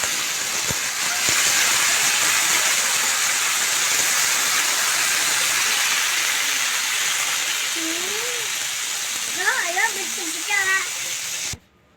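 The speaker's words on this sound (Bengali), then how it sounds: "এখন আমি পরিমাণ মতো জল দিয়ে দেব।" Water is poured into a hot pan of sautéed papaya and green banana for a rohu fish curry, raising a loud, steady steamy hiss and sizzle for several seconds. Faint voice-like sounds come near the end before it cuts off.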